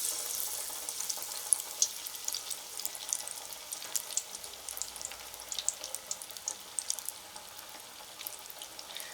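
Banana flower vadai fry in hot oil at medium flame, giving a steady, fairly quiet sizzle with crisp crackling pops throughout, no talking.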